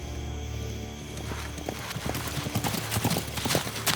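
Horses' hooves clip-clop steadily on a hard surface, several animals walking close by with a low rumble underneath and no talk.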